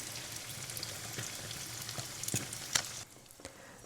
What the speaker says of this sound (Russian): Жарим на таком среднем огне.